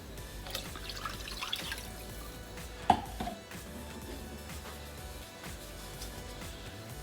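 Two cups of water poured into a pot of onions and beef stock for French onion soup, heard as soft close dripping and splashing with one sharper splash midway and otherwise low liquid trickling.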